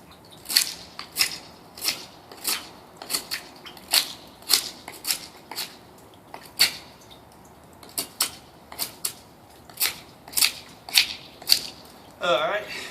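ESEE 4 knife in stainless 440C steel cutting through tough material outdoors: a series of sharp, crisp snipping cuts at irregular intervals, close and fairly loud, ending with a brief scrape.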